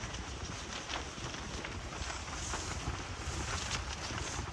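Wind blows steadily outside at a beach campsite in Calatagan, Batangas. A continuous broadband rush buffets the microphone with gentle swells in strength and no talking.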